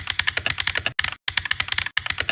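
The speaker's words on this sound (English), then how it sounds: "You can change the sound of your keyboard that it makes when you're typing." Rapid computer keyboard typing sound effect from the Opera GX browser, loud dense clicky keystrokes in quick bursts with two brief pauses, heard alone without talk.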